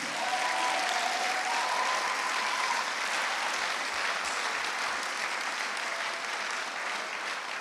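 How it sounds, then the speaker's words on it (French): A church congregation applauding and cheering for Jesus during a French-language sermon, with dense, sustained clapping that fills the room evenly for several seconds. "Est-ce qu'on peut acclamer pour Jésus?"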